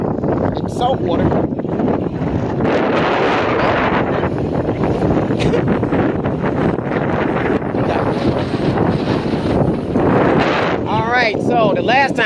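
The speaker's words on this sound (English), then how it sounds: "it was windy just like this" Strong wind buffeting a microphone outdoors near water after Hurricane Ida, a constant loud roaring rush with gusty swells throughout, and voices talking over it.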